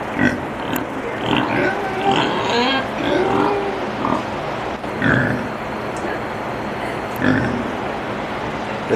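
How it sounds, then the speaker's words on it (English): Pigs at a farm-animal petting exhibit in Norfolk, Virginia grunt and oink in short repeated bursts at close range, against a busy outdoor background with faint voices of visitors. "Those little piggies."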